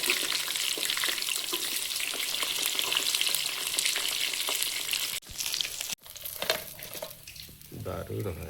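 Chicken pieces for biryani fry in hot oil, a steady loud sizzle for about five seconds, then broken by a couple of short cuts and clatters as the frying continues more unevenly.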